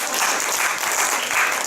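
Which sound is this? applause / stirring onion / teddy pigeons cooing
applause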